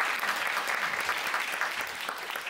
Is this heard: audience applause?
yes